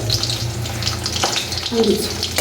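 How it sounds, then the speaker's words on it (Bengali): A fish is turned over in a pan of hot oil and crackles and sizzles steadily up close, with a low hum underneath and faint voices in the background. "মাছ তো যে উল্টাই দিলে হচ্ছে খড়খড় আওয়াজ হয়"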